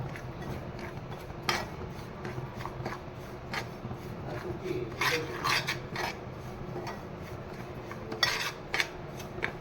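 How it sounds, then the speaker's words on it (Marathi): Semolina is dry-roasted with ghee in a pan over a low flame, heard as quiet scraping and rasping of a spoon against the metal, with faint clinks scattered across the stretch and no talk. "छानपैकी असा रवा आपण भाजून घेतोय।"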